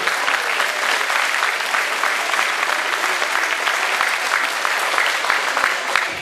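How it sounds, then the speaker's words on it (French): Crowd applause for two boxers after their first bout at a BXF boxing event, a continuous dense patter of many hands clapping at steady loudness throughout. "Merci de les applaudir"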